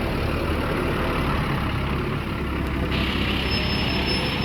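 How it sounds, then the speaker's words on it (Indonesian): The newest MPM Mandalika bus, bodied by Adi P..., idles loudly with a steady, dense engine rumble and no break across the whole stretch. "Ini unit kedua dari MPM yang akan menuju Jakarta, Mandalika, unit terbaru bus MPM."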